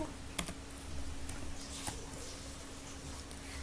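Computer keyboard being typed on to enter a short word as program input, a few faint, scattered key taps over quiet room hiss.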